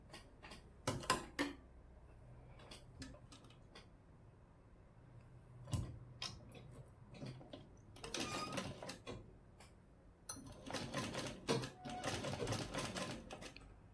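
A sewing machine stitches cloth for a round collar neck on a kurti or blouse, with scattered close clicks followed by longer bursts of rapid, rattling stitching.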